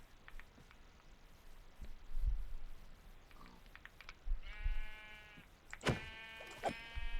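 Sheep in the video game Minecraft bleat twice near the end, loud and close with clear harmonic wavering cries, after a stretch of quieter game sounds and soft thumps.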